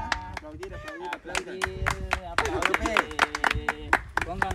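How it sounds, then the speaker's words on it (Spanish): Hands clap in uneven, sharp bursts at a family surprise party, mixed with excited voices calling out and cheering nearby; the clapping is close and lively throughout, overlapping with talk. "Aplaudir, aplaudir,"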